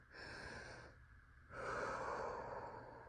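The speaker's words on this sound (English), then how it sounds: "A good idea is to take some big, deep breaths." Slow, deep breaths taken to calm down, a long soft inhale followed by a fuller exhale, quiet and close with nothing else around.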